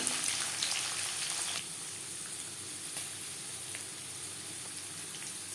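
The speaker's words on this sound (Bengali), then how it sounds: "নারকেলের সাথে ছোলা বেশ ভালো করে মিক্স করে দেবো ছোলা ও দু তিন মিনিট হালকা করে ভেজে নেব" Coconut and chickpeas frying lightly in a pan for a Bengali vegetarian jackfruit curry give a steady hiss and sizzle that stays even throughout, with no talk.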